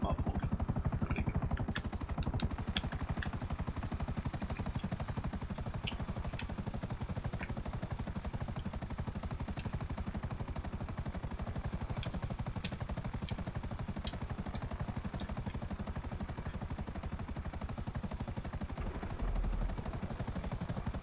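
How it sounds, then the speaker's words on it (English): Muffled helicopter rotor drone in the video game GTA Online, a continuous low, dull throb held at a steady level with faint clicks over it. "The helicopter sound effect is muffled."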